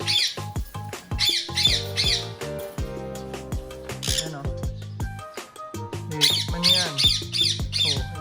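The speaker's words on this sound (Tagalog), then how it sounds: "Itong mga bagong ibon natin, Emerald." Newly acquired pet parrots give repeated harsh squawks in bursts, close to the microphone and fairly loud. Irregular clicks and knocks run between the calls.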